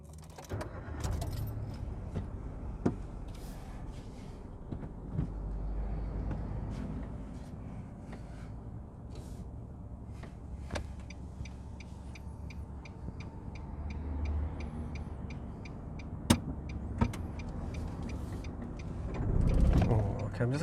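A car started and pulled away during a driving mock test: key jangle and clicks, a low engine hum building and settling, scattered mechanical clicks, with occasional talk inside the cabin.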